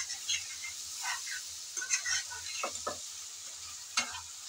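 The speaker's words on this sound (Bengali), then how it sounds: "চিংড়ি মাছগুলো দিয়ে আবারও একটু নেড়ে চেড়ে ভালো করে মিশিয়ে নিতে হবে।" A spatula stirs fried prawns in a sizzling pan, with soft scraping and a steady frying hiss underneath, faint and close.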